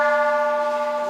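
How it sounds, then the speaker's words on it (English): A big temple bell at a Buddhist temple on a Thai island hums after a strike. Its sustained, shimmering tones ring clearly and steadily, decaying slowly with little other noise. "Hey, look at this amazing big bell."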